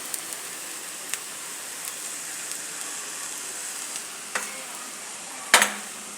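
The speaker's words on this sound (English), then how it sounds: "Now I'll mix them properly." Egg chow mein sizzling steadily in a pan, with soy sauce, vinegar, MSG and salt, while it is stirred; faint scrapes tick now and then and one sharper clatter stands out near the end, with no talking.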